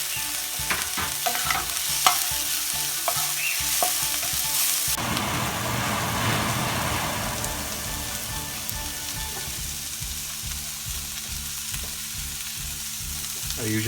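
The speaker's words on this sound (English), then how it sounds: "I usually put salt while sauteing my veggies." Vegetables with spring onions and bell pepper sautéing in a pan, a steady sizzle with scraping stir strokes that turns into a fuller, louder hiss as more goes in, then settles to a softer fry.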